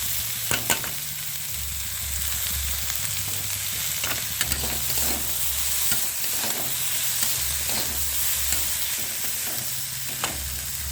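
Spices with salt, turmeric, chopped garlic and ginger fry in a hot pan, a steady close sizzle broken by repeated scraping strokes of a stirring spoon, continuous throughout with no voices.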